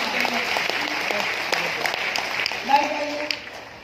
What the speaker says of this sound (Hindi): एक जबरदस्त तालियां